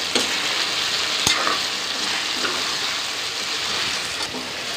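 Food frying in hot oil in a pan for chicken curry, a steady broad sizzle with occasional stirring clinks, alone and moderately loud.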